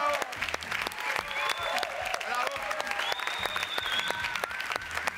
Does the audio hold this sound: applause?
yes